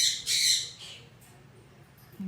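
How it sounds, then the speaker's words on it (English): Pet birds squawking and chirping in a room during indoor crafting: a sharp burst of high squawks at the start, then a few faint chirps, fairly soft and somewhat distant. "You probably hear my birds again, my wonderful little birdies."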